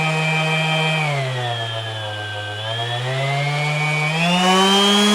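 Flex power sander running steadily at its turbo setting, a continuous loud whine throughout that dips slightly in pitch in the middle and rises again near the end, with no talking.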